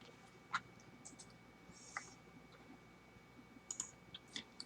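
A computer keyboard gives a few faint, scattered key clicks over quiet room tone, with a small cluster of quick taps near the end.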